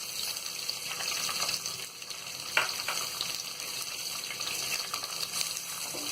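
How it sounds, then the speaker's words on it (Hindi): Onions frying in hot oil with cumin seeds and curry leaves for vegetable dalia, giving a steady, close sizzle and crackle that runs throughout, with one brief clatter partway through. "अब हम इसमें प्याज डाल देंगे।"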